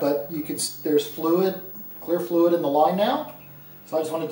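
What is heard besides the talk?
No everyday noise stands out behind the speech.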